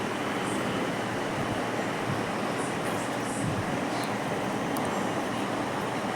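Train standing at Kharagpur station on the way to Puri, a steady dense rumble and hiss with faint clicks and squeaks, close and continuous, no talk.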